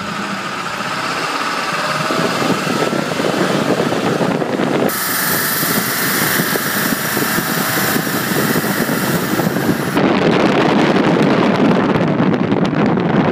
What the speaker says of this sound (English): Now I'm going to go ahead and do a wide open throttle.